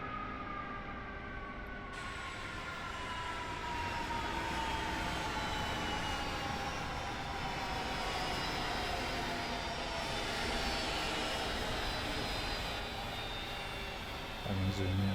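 Twin jet engines of a MiG-29A in a flight simulator game spool down after the throttles are cut, a long, steady descending whine with falling tones, fairly loud and alone, ending in a faint click.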